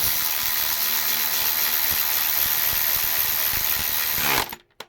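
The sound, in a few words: tightening starter motor bolts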